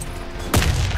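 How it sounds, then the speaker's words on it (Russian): Grenade blast in a multiplayer shooter game, a sudden loud broadband burst halfway through that rumbles on to the end over steady background game noise. "Граната пошла!"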